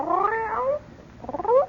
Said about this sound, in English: he bent over and picked up a little gray cat